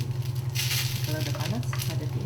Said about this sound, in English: If it's hot enough, we can start frying.